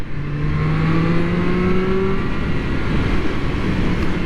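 A 2024 Triumph Street Triple 765 R motorcycle engine revs steadily and loud, its pitch climbing and then dropping as gears change, a continuous close engine drone with no voices.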